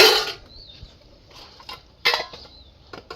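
Metal pots and utensils clank and clatter as they are taken out, a sharp burst at the start and another midway, with quieter clinks between and no voices.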